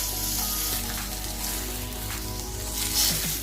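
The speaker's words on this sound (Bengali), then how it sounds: "মাছের মাথাটা এখন ভালো করে ভাজা হোক।" A fish head frying in oil, with a continuous hissing sizzle and bubbling close by and a brief louder spatter near the end, no talk over it.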